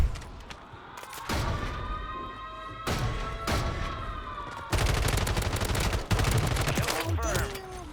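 Akimbo WSP Stinger SMGs firing in a video game, loud rapid-fire bursts that run several seconds each, separated by brief pauses, with possible faint voice underneath.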